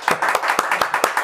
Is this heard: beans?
no